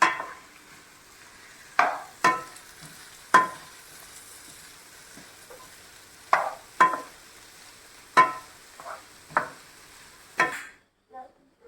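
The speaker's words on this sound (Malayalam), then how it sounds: "നമുക്ക് ഇളക്കി കൊടുക്കാം." A spoon stirs pulao as it fries in a pan, scraping in a series of sharp, irregular strokes over a soft, steady sizzle, heard close with no talking.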